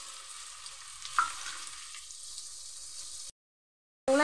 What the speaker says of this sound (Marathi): आधी घी टाकलाय मी. कांदा टाकते, एक कांदा आहे टाकते.